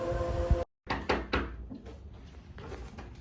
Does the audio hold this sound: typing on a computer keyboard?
no